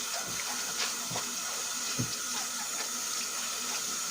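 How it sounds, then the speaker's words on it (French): Lukewarm tap water running over a goalkeeper glove at a sink, a steady faint trickle with soft splashes and sloshing as the glove is rinsed. "je prends mon gant, je le passe sous l'eau tiède"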